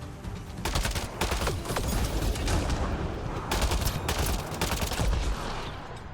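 Rapid, sustained gunfire from the Mass Effect Andromeda video game: dense bursts of overlapping shots, like automatic weapons in a firefight, fill the whole span at a steady, loud level.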